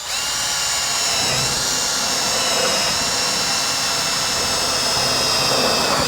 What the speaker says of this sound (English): we're not putting any pressure down here as we're screwing our fasteners in.